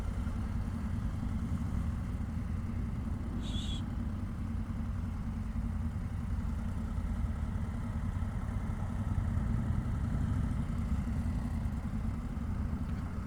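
A 2025 Indian Super Scout Limited motorcycle engine runs at a steady, low idle throughout, with an even, constant rumble and a brief higher tick partway through.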